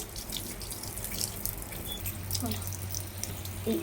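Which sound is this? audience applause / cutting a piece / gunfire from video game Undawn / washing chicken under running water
washing chicken under running water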